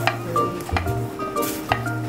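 Garlic and onion sizzle in a pan while being stirred, with a steady hiss under repeated scraping and clinks of a utensil against cookware, close up and with no talking.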